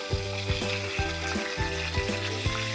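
Food frying in a pan, a steady sizzle with bursts of crackling and a few soft stirring knocks at roughly half-second intervals, heard close with no talking.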